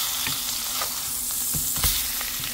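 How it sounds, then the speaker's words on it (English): Salmon fries in butter in a pan with a steady hissing sizzle and scattered pops and crackles, close up, with no talking. "It's in butter. I'm frying it."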